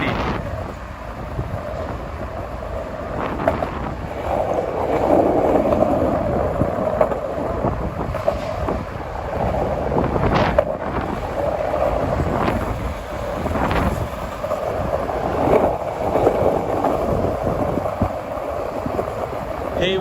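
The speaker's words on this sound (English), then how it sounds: "Jeez, it's so windy." Strong wind buffets a microphone on a Manhattan street at Hudson Yards on a summer night, a steady loud rumbling roar with sharper gusts throughout.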